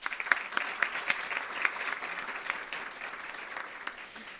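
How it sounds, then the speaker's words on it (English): Audience applause at an awards celebration honoring women leaders, moderately quiet with a few distinct sharp claps standing out over a softer continuous patter. "Please join me in giving them a round of applause."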